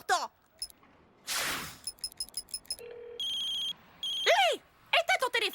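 A telephone rings in short electronic bursts separated by brief gaps, mixed in with other short clinks and talking in the room.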